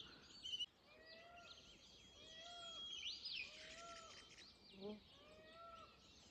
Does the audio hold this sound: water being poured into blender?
no